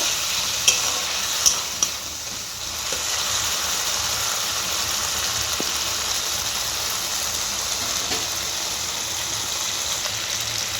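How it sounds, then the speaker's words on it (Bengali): A fried katla fish head is stirred into sizzling spices in a pan, with a few sharp utensil clinks at the start and then a continuous, steady frying hiss. "দিয়ে মশলার সাথে ভালো করে কষিয়ে নেব।"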